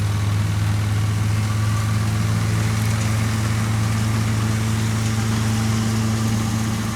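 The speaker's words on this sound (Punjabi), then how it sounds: "ਦੇਖੋ ਜਿਹੜੀ ਚਾਲ 'ਚ ਹੁਣ ਟਰੈਕਟਰ ਚੱਲਦਾ ਹੈ" A New Holland 3630 TX tractor's engine runs at a steady, loud, close rumble with no break and no talk.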